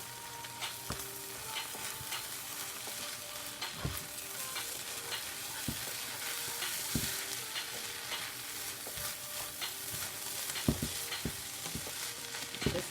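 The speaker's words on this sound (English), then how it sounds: "Stir in the seasoning." Shrimp fried rice tossed with onion powder seasoning in a pan over high heat, a steady sizzle with scraping spoon strokes against the pan repeating throughout, close and alone.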